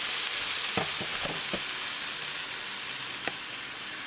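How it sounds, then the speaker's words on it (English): Spices frying in hot oil as a tadka for baingan bharta, a steady close sizzle with a few brief crackles and pops scattered through it, no voices. "Cooking spices along with tadka for 1 minute."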